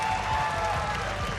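At a middleweight boxing bout, the crowd claps in a dense, steady burst that fills the hall, with cheering mixed in.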